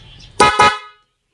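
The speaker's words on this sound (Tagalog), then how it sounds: "dual horn" A dual contact car horn upgraded from the stock horn, giving two loud, close blasts in quick succession after a faint background hum.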